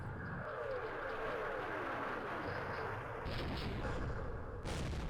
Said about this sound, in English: Looks like our artillery is hitting where it needs to